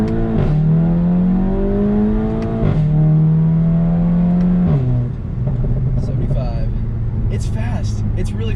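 An APR Stage 2 tuned car accelerates hard on a busy road with traction control off, its engine climbing loudly through gears with rising pitch and short shift dips, heard from inside the cabin, ending with a few crackling pops.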